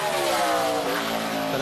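A NASCAR Busch Series race car at speed around Darlington during qualifying, its engine a loud, steady high-revving roar that holds strong and close throughout the short burst.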